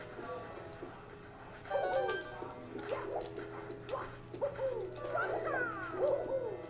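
The bird in Super Mario 64 gives off repeated chirping, warbling calls in short bursts over a steady background hum, with faint voices behind.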